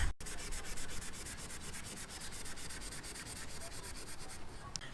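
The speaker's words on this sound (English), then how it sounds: "they give you a little piece of Scotch-Brite, and we just need to scuff up the back side of this" A Scotch-Brite pad scuffs the back of a plastic sliding door panel for a Sprinter van conversion, giving a continuous, rapid, rhythmic rubbing scratch close to the ear with no pauses.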